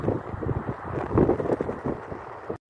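Wind buffets the microphone in a continuous low rumble, gusting and roaring with no voices present.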